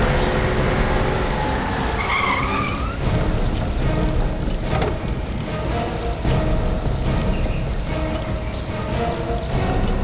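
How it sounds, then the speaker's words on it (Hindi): A car pulls up in heavy rain, its engine and tyres on wet ground blending into a dense, continuous downpour that fills the scene from start to finish. "कोई गाड़ी आई है।"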